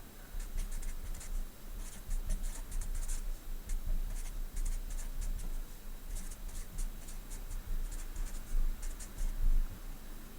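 A pen scratches steadily across paper during automatic writing, with quick strokes and short pauses running continuously at close range with no voices.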